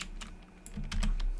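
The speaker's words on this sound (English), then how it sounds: "Sorry, I just dropped some stuff on my keyboard." Objects clatter onto a computer keyboard, a few scattered clicks and knocks building to a busier cluster of key taps near the end, close and moderately loud with no talking.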